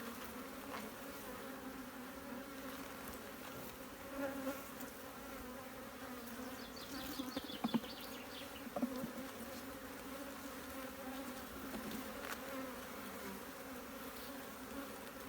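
Honeybees buzz at an open beehive, a soft, steady drone that holds throughout, with a few faint clicks and knocks.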